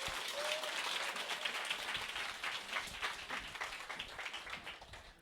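An Atomy business-event audience applauds steadily for about five seconds, dense even clapping filling the room at moderate level with no voices on top.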